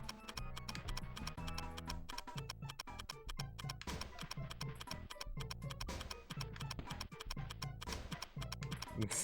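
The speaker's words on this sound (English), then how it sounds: "This timer sound sucks." In the N64 game Gex 3: Deep Cover Gecko, a countdown timer ticks quickly and regularly, faint sharp clicks repeating over soft game music, with no talking.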